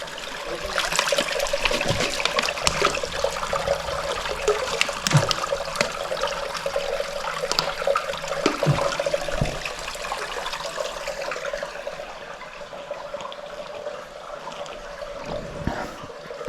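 Water pouring from an ancient fountain at the ruins of Sagalassos, a steady rushing stream with splashing close by, running continuously while occasional faint knocks and movements sound over it.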